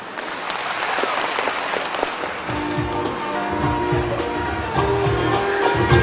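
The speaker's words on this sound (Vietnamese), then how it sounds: "Xin quý vị hãy dành một tràng pháo tay nồng nhiệt" Audience applause at a 2011 factory opening ceremony for a veterinary medicine plant, a steady, dense clapping wash that continues without pause for several seconds and grows slightly louder near the end.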